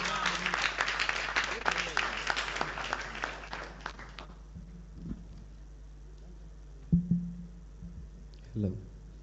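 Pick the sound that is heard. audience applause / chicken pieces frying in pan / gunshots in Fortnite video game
audience applause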